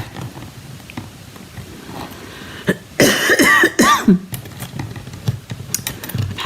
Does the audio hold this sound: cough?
yes